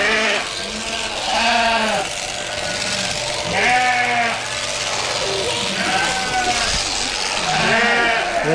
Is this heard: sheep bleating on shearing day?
yes